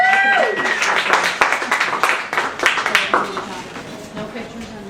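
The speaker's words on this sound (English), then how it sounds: "So how about a round of applause" An audience breaks into scattered applause for a father-and-daughter storytelling pair at a December holiday event, the clapping building under a presenter's voice and fading toward the end.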